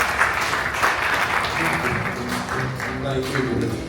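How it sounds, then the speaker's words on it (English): Audience at a grand annual benefit gala applauding steadily, a dense wash of clapping filling the room with voices mingled underneath. "Have a huge round of applause for Board of Trustee Chairman, Mr. Ravi Shan"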